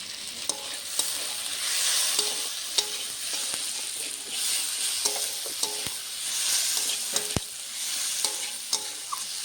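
Potatoes frying with coriander powder for a Bengali egg curry, stirred with a spatula: a steady close sizzle runs throughout, broken by repeated sharp scraping clinks against the pan at an uneven rhythm, with no talking.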